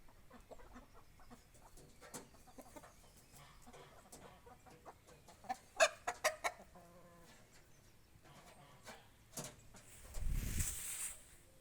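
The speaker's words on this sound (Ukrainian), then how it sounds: "Курочки звичайні. Нема ніякої породи. М'ясо яїчні. Такі курочки." Ordinary mixed-breed egg-and-meat farmyard chickens cluck and murmur close by at a brother's homestead, with a louder burst of clucks midway and a rustling thump near the end.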